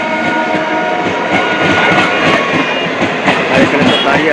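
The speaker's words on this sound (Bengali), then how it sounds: "যাত্রী এটা শিয়ালদার দিকে রওনা হয়ে গেল ট্রেন" A train pulls out of Sonarpur station toward Sealdah beside a crowded platform, loud rolling rumble and rhythmic wheel clatter close by for several seconds.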